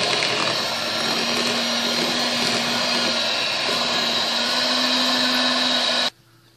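An electric mixer beats dough, whirring loudly and steadily for several seconds, a constant high motor hum, then cuts off abruptly.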